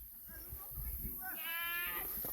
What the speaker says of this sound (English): Here the sheep